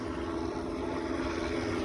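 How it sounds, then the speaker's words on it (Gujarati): Two or three drones flying around above a crowded temple festival give a steady, unbroken propeller buzz that stays fairly loud and even throughout, with no voices standing out. "બે બે ત્રણ ત્રણ ડ્રોન ઉડે રહ્યા આજુબાજુ"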